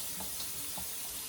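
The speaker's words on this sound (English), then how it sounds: "run the water while my hands are clean of chicken and seasoning" Steady hiss of water running from a faucet into a sink, constant and close for about a second, with no voices.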